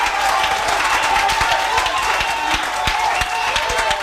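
Church congregation applauding to acclaim the Lord during a Sunday sermon: a steady, dense wash of clapping from many hands throughout, with faint voices mixed in.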